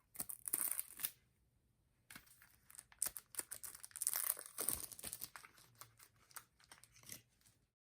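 Plastic wrapping crinkles as an SKE48 CD package is opened, close and fairly quiet, with irregular bursts of crackling rustle separated by short pauses.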